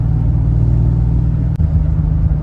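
A Triumph TR6 six-cylinder engine revs with a deep, steady, throaty rumble, close and loud, holding a constant drone throughout.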